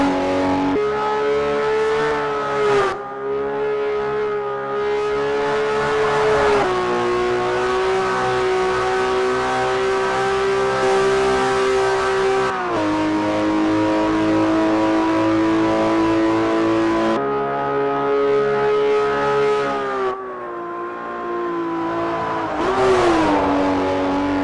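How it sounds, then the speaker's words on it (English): A 2011 Ferrari 599 GTO V12 screams through a lap of the Indianapolis speedway in Forza Motorsport 4, holding high revs with brief dips at gear shifts, loud and continuous with no talk. "today we are doing a test lap with the 2011 Ferrari 599 GTO from the Forza Motorsport 4"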